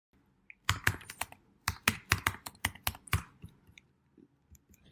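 Fingers tap out a short burst of typing on a computer keyboard while working in Adobe Illustrator: quick, close keystrokes in two quick runs with a brief pause between, fairly quiet and with no talk.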